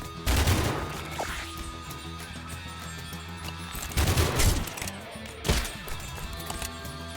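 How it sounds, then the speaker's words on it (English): Pistol gunfire in the video game Arco, a few sharp shots separated by pauses, each ringing out with a crashing tail over a steady game backdrop. "He will still fire that pistol"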